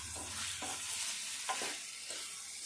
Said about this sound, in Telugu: ఈ వంకాయ ముక్కలు ఇట్లా మంచిగా ఫ్రై అయినాక